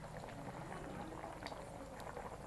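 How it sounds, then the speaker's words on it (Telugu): A murrel snakehead fish masala curry simmers in a pot, its tamarind gravy boiling with a steady, dense bubbling and popping that runs close and unbroken throughout. "కొరమేల చేపల కూర చూడండి ఎంత బాగా ఉడుకుతుందో"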